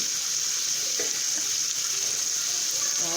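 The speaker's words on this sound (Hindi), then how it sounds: "अब हम इसको फ्राई करते रहेंगे।" Chicken with thyme, salt and black pepper fries steadily in a pan, a loud, close, constant sizzle with faint stirring scrapes.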